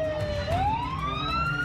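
Fire engine siren arriving at a house fire in Jakarta, a loud wailing tone rising steadily in pitch, close and alone with no talk.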